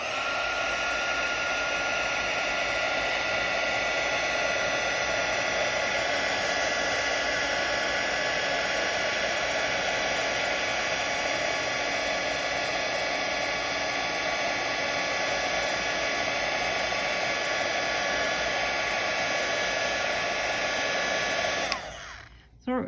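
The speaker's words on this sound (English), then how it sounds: "I'm going to use the heat and emboss tool." Sizzix heat and emboss tool blowing hot air, a loud continuous hair-dryer-like roar held steadily at close range for over twenty seconds before cutting off abruptly.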